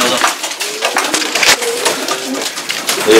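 Racing pigeons shuffle and flutter inside a loft, with scattered coos, wing flaps and scraping on wood close by, and a voice speaking over the busy background.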